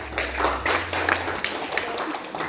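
Audience applause at an ESQ training session at FISIP Unej, a steady burst of many hands clapping together, close and loud, lasting a couple of seconds.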